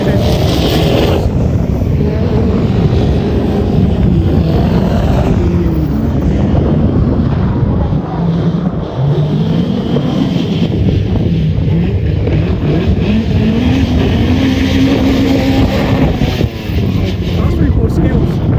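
Group B rally cars at a Race Retro event roar past in a loud, sustained engine drone with rising and falling revs, buffeted by wind noise, while a person talks over it.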